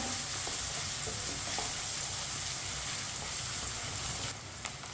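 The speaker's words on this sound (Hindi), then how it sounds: "प्याज को हल्का सा ब्राउन कर लेंगे। फुल ब्राउन नहीं करना, हल्का सा ब्राउन करना है।" Onions frying in a pan over medium heat to a light brown, a steady dense sizzle that holds evenly throughout with no talking, easing slightly near the end.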